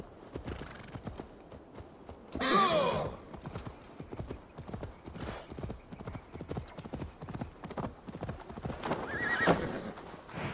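Horse hooves clip-clop at a steady pace in Assassin's Creed Valhalla, with a neigh or whinny breaking through twice over the rhythmic gait, along with faint game ambience.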